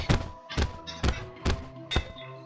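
Repeated hits from a clicker weapon in Terraria, a short bright ding landing roughly every half second, five in a row, with a thunky low knock under each, clear and close with no talking.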